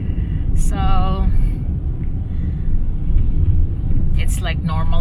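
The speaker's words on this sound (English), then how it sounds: "it's like normal day traffic and a lot of people on the road" City road traffic heard from inside a car driving through Cebu City on an ordinary busy day, a loud, constant low engine rumble with brief higher tones, while people talk over it.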